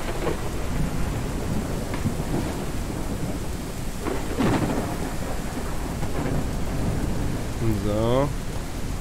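A thunderstorm in the farming game Ranch Simulator, with steady rain pattering on surfaces and several rolling thunder cracks, one sharp strike in the middle and a fainter tonal sound near the end.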